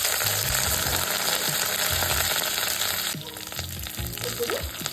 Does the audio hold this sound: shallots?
yes